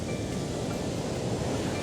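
Ocean waves break on a beach in Rio de Janeiro, Brazil, heard as a steady, loud broadband wash of surf with wind noise over the microphone and no clear voices.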